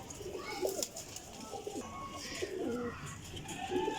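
Pigeons coo repeatedly at close range, soft throaty calls over a constant background hum.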